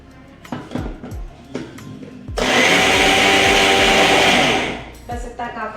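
A kitchen mixer grinder whirs loudly for about three seconds as it grinds bread into fine crumbs, with brief knocks and clatter around it.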